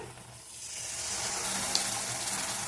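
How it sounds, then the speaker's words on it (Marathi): Water runs and splashes as a mixer grinder jar is rinsed in a kitchen, a steady close hiss and gush that swells slightly and continues without a break. "नंतर मिक्सरचं पॉट धुवून पाणी टाकूया"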